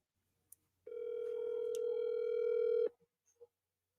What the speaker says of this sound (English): making a phone call now